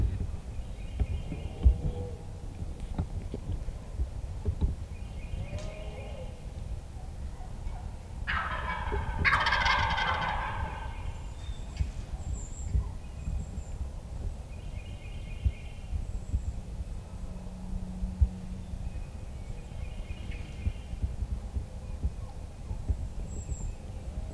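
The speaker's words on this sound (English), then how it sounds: "Sam, I can hear him drumming." A single wild turkey gobble rattles out from a moderate distance against quiet outdoor ambience in Missouri, with faint low rumbling drumming and soft murmurs around it.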